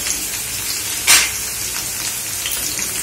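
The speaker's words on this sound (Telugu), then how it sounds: "ఉల్లిపాయ వేగుతుంది కదండి" Onions frying in a pan for bhindi fry give a steady, close hiss and crackle, with one brief louder burst of sizzling partway through and no talking.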